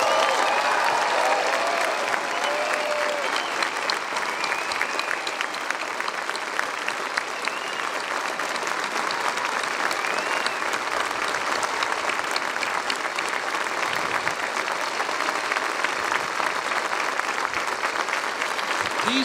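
An outdoor audience at the D-Day 75th anniversary ceremony at the American Cemetery at Omaha Beach gives World War II veterans a long, sustained round of applause, dense clapping that continues steadily throughout.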